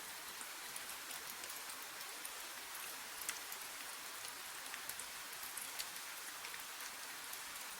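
Gentle rain falls in an even, soft hiss with faint scattered drop ticks, steady and quiet throughout with no voices.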